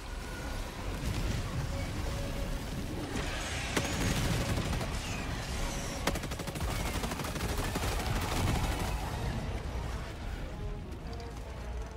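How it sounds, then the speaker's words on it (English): Orbital strike explosions and weapon fire in the Helldivers video game, heard as a dense, loud, continuous barrage of blasts and shots, with sharper impacts standing out around the middle. "Orbital strike incoming"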